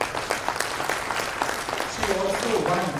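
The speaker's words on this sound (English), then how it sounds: "I'll repeat it and get her the applause again" Audience applause at an organisation's annual address, a steady patter of many hands clapping under a noisy room, with a voice speaking over it toward the end.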